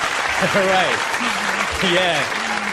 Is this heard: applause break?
yes